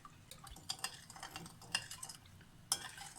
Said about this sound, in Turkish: Şöyle şekerini biraz çözdürene kadar karıştırıyorum.